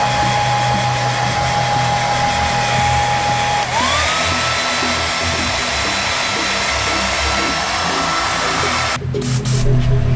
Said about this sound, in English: Get your hair dryer out and start drying what you just sprayed.